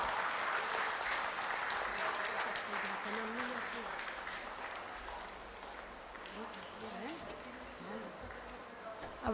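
An audience at a dental conference claps in steady, dense applause that carries on throughout, fairly faint and roomy as in a hall.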